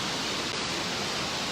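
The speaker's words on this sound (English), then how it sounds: "It's like pouring rain again" Heavy pouring rain at an outdoor summer festival on the Atlanta BeltLine, a dense, even hiss of downpour filling the whole moment.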